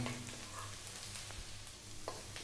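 Chopped garlic and ginger sauté in oil for a Filipino quail egg and sweet potato stir fry, a quiet, even sizzle with faint stirring scrapes throughout, no voices.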